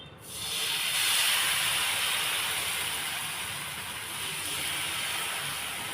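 Ragi (finger millet) dosa batter poured onto a hot pan bursts into a loud, steady hiss and sizzle that holds for several seconds, close and with no one talking.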